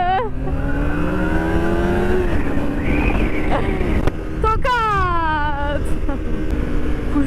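A Yamaha MT-09 motorcycle accelerates hard, its engine note climbing through repeated rising sweeps with gear changes. Traffic surrounds it and voices talk over the noise.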